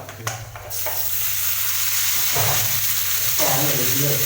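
Green chillies dropped into hot oil in a pan for a tomato chutney, a loud steady sizzle rising after a few clatters and swelling again as they are stirred.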